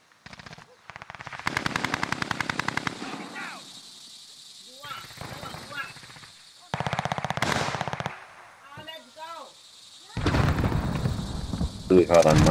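Bursts of rapid automatic gunfire in Call of Duty: Modern Warfare, loud and close, coming in several separated volleys with short pauses, mixed with game effects and voices talking in between.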